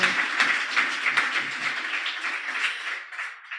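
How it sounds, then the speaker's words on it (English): An audience at a startup pitch night claps together in a brief burst of applause that gradually thins out and fades away. "A big round of applause for those first 8."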